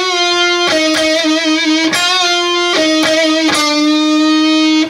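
Electric guitar plays a bent note with vibrato, loud sustained picked notes with wavering pitch, repeated in a steady phrase, close with no talking.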